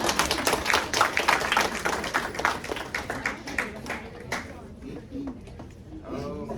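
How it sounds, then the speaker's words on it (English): An audience at a Fort Hayes defining-moments presentation breaks into a burst of clapping that is loud at first and then thins out to scattered claps, with voices heard alongside. "Clap it up for Evan!"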